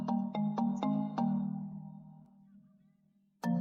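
A Nokia mobile phone ringtone plays a short run of bright, evenly spaced electronic tones that ring out and fade, followed by a pause and another tone starting at the end.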